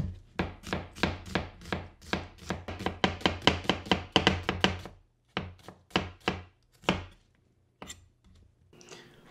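Onions being chopped on a board for French onion soup, with a fast, steady run of sharp knife strikes that slows into scattered single chops, close up and with no talk.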